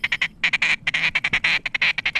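A duck quacks rapidly and loudly nearby, a string of harsh, rhythmic calls in quick bursts with no talking, during a waterfowl hunt in the northern Dakotas.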